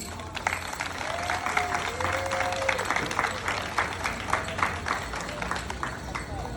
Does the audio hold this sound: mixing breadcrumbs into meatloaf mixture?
no